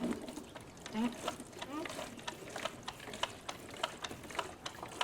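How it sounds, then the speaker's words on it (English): A hand siphon pump on a GARVEE 15.8-gallon gas can is worked, producing faint rhythmic clicks and squeaks under a person talking quietly. "Pull it, stick it in the bottle, and now we're going to pump."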